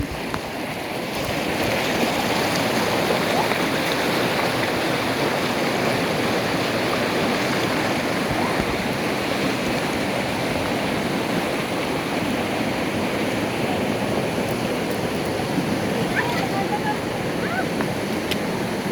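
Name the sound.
strong waves and rushing water at Mother Falls, Baler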